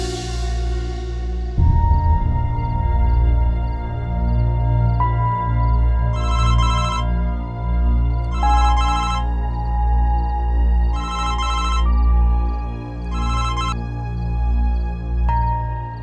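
A telephone rings repeatedly in a quiet home, with bursts of bright electronic ringing recurring at regular intervals over a steady low hum.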